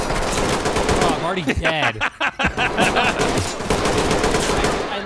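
Gunfire in the tactical shooter Ready or Not: loud, fast automatic bursts crack out up close, with voices talking and shouting through the shooting.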